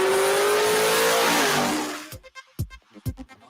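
A big-tire drag race car with a stick shift and air ride screams at high revs for about two seconds, its pitch climbing slightly, then cuts off abruptly, leaving a few short thumps and knocks.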